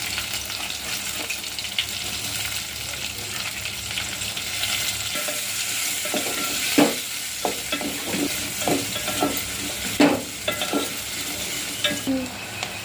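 Onions with cumin and turmeric fry in a pan for tomato rasam, a steady sizzle running throughout while a spoon scrapes and stirs in irregular knocks, louder around the middle and end.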